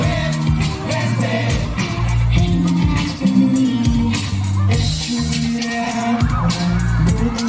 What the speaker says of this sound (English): Look at the crowd partying with it.